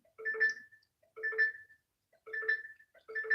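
A phone rings in four evenly spaced electronic bursts about a second apart, each a bright warbling tone. It sounds moderately faint and is heard alone against a quiet background.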